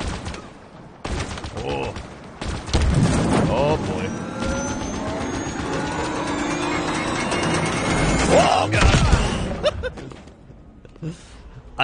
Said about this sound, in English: I didn't realize that was the thing exploding until it was too late to get out of it exploding